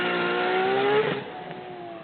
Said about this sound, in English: I'm going to take you guys for a run in my daily driver, R34 GTR B-Spec.